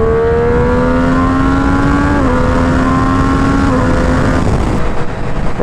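Triumph Street Triple RS motorcycle with an Arrow exhaust, a loud, close engine drone with clear harmonic tones that climb through the gears, stepping down briefly at each shift before rising again.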